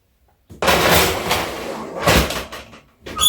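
An oven door closing after a tray of oatmeal cookies goes in, a loud rushing scrape and rumble lasting a couple of seconds before a second shorter swell.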